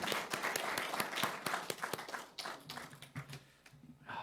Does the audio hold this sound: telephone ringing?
no